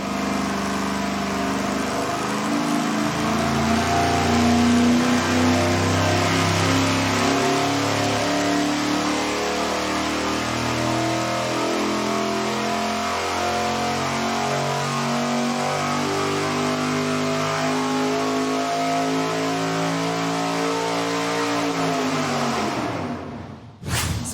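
A dyno-mounted engine running on 91 octane fuel warms up at a steady, loud idle with a deep rumble and harmonic drone, holding constant throughout before cutting off abruptly at the end.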